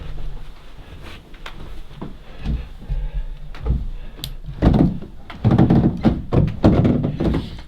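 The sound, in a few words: creaky wooden stairs being walked on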